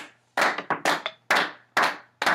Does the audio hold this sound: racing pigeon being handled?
no